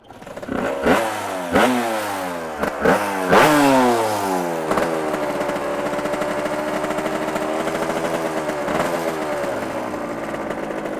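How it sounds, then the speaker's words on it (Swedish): A Honda CR 125 motocross engine of 40 horsepower, fitted in an FS1 believed to date from the 1980s, blips through several sharp revs early on, then settles into a steady, loud, rattly two-stroke idle that runs alone until the end. "Som det sitter en Honda CR 125 crossmotor på 40 hästar."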